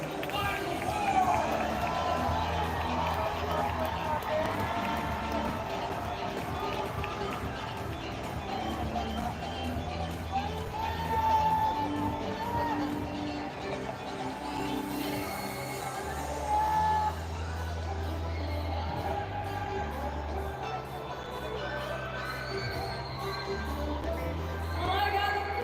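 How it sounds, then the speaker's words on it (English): Crowd noise at the Miss Earth 2022 pageant, a continuous roar from a roadside audience heard under nearby talking, with a few louder swells. "the crowd is definitely going crazy on this side of the road"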